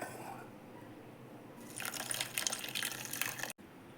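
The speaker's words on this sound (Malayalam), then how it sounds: "ഇനി നമുക്ക് ആവശ്യത്തിനുള്ള വെള്ളം കൂടി ഒഴിച്ചു കൊടുക്കാം" Water poured from a vessel into a pot of oats for porridge, a soft splashing gush lasting a couple of seconds after a quiet start, then a brief cut.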